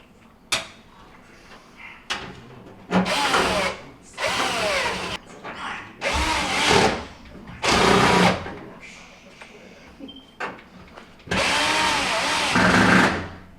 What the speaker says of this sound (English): We're going to go ahead and put the 2¼ inch screws on the front side here.